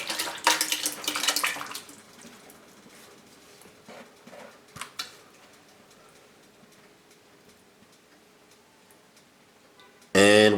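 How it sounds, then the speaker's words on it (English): Peach cobbler filling from canned peaches poured into a pot over high heat, a brief wet splashing pour at the start followed by quiet, faint bubbling, with a sharp loud clatter right at the end. "we're going to add our peach cobbler filling to the pot now"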